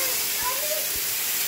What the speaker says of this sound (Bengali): আনারসের চাটনিটা করব, এর জন্য আমি দিয়ে দিয়েছি 5 ফোড়ন সর্ষা, শুকনো লঙ্কা, তেজপাতা ফোড়ন।